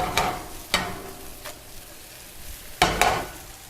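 A blonde roux for a creamy sauce cooks in a pan, with sharp scraping strokes of a utensil at irregular intervals, two close together near the end, over a faint sizzle.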